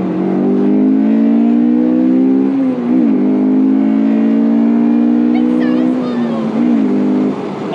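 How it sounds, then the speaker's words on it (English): A JDM car with a Honda F-series engine revs loudly and close up, its intake roaring steadily with a couple of brief dips in pitch as the throttle shifts. "nothing beats the F-Series intake noise"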